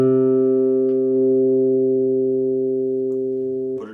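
A Peavey T-40 bass guitar rings out with its tone knob rolled back to engage the humbucker pickup setting, one sustained, full, warm note decaying slowly before a brief handling noise at the end.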